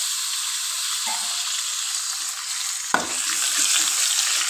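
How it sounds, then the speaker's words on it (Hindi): Chicken meat dropped into a pan of fried onion and garlic, giving a steady loud sizzle and hiss throughout with a brief stirring clatter near the middle. "ये देखिए प्याज और लहसुन जो है फ्राई हो चुके हैं, अब हम इसमें चिकन डाल देते हैं।"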